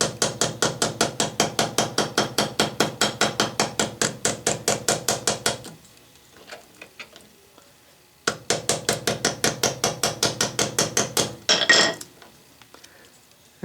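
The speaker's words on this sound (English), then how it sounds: "using my smallest Vaughan ball peen hammer" A small Vaughan ball peen hammer taps rapidly and steadily on a metal part, a close, sharp run of evenly spaced blows, then a pause, then another matching burst of taps.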